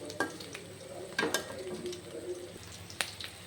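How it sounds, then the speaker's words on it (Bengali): Karkal filling frying in a kadai while being turned over, giving a low steady sizzle with a few sharp scraping and clattering strokes spread across a few seconds, close and fairly quiet. "পুরগুলো আমি কড়াইতে ছেড়ে দিয়েছি এবার উল্টিয়ে পাল্টিয়ে নেব"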